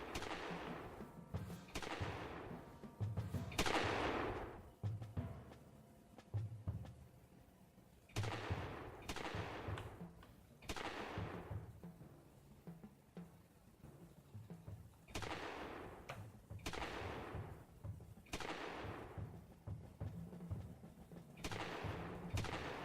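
Video game gunfire aimed at enemies, with repeated single shots and short bursts spaced irregularly through a long stretch, each trailing a fading whoosh, fairly quiet with no talk.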